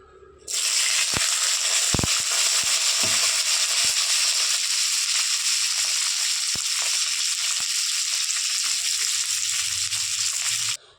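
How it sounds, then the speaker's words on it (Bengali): Dried red chillies, onion, garlic and ginger sizzle steadily in hot oil, a continuous loud hiss with a few sharp crackles and pops near the start. "আমি আগে শুকনো লঙ্কাটা ভেজে নিচ্ছি একে একে পেঁয়াজ রসুন আদা কুচিগুলোও ভেজে নেব"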